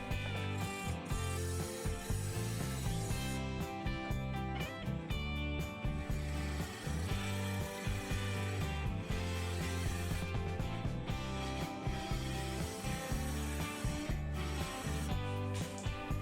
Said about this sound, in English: first I'm going to define that 5-inch diameter with a parting tool